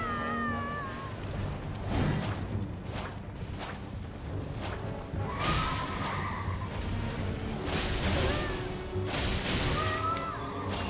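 A horse in the video game Elden Ring gives wavering neighs over dense game sound effects and thuds, moderately loud.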